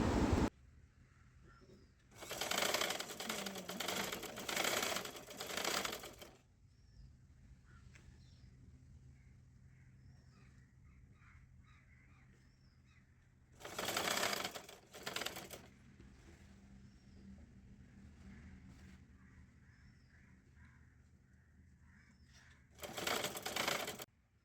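Sewing machine stitching a kurti sleeve onto the body panel, heard in three bursts of rapid mechanical chatter separated by quiet pauses, close and clear with no talking.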